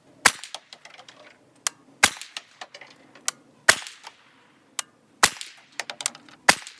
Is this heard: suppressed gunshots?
yes